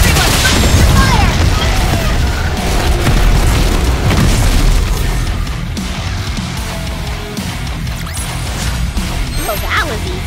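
Loud, dense gunfire and booming explosions from a battle in the mobile shooter game Goddess of Victory: Nikke, continuous bursts and crashes filling the whole stretch with some voices mixed in.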